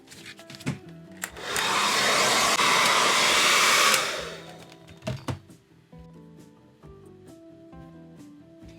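A heating tool blows hot air for a few seconds to warm and loosen the screen of an Honor 9X smartphone, a loud, steady close whoosh. Scattered light clicks and handling taps follow once it stops.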